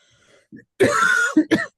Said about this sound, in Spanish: Perdonen por la tos.